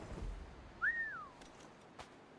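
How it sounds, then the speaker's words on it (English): A character in Assassin's Creed III Remastered gives one short whistle that rises and then falls. It rings out clearly for about half a second over quiet in-game background sound. "No, I didn't mean to whistle again"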